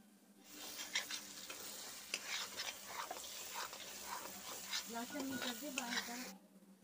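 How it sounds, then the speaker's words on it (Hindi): Masala frying in a pan while being stirred, a continuous sizzle with repeated scraping and clinking of a utensil against the pan, fairly close. "अभी इसको हम दो तीन मिनट के लिए और भूनेंगे अच्छी तरह से"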